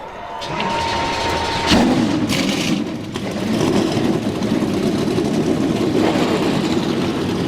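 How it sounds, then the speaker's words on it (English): NASCAR race car engines at Texas firing up and idling together, a loud, continuous rumbling roar with a sharp surge early on, then holding a steady heavy drone. "Drivers, start your engines!"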